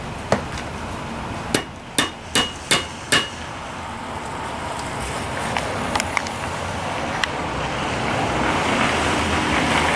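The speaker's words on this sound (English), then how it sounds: "Hammer this dude the rest of the way in." A hammer drives a tapered pin into a Briggs and Stratton starter motor with about six sharp, evenly spaced metallic strikes, followed by a few fainter taps over quiet background noise.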